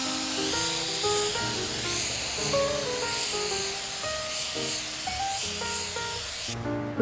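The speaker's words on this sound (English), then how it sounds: "spray a clear top coat over the image" A continuous aerosol spray of clear acrylic top coat over waterslide decal paper hisses steadily from start to finish, with background music playing underneath.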